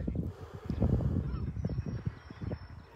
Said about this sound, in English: so, ooh, geese.